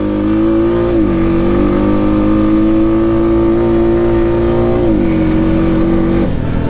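A Honda Rubicon 520 deluxe ATV engine pulls hard and loud close up, its pitch rising steadily in a strong accelerating drone with small steps as it shifts, no talking.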